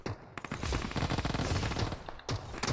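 Rapid bursts of gunfire in PUBG Mobile, a dense sustained fusillade of automatic shots with a brief pause before the firing resumes, loud and close.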